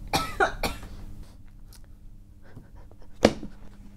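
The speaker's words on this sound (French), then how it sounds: "Je me suis retenue de tousser depuis un moment." A woman coughs a few times, two harsh coughs close together at the start and a single cough near the end, each loud and close against a quiet room.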